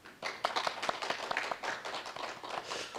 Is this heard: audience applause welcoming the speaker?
yes